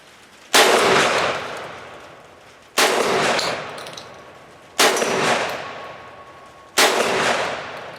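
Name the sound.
Centurion BP-12 shotgun firing double-aught buckshot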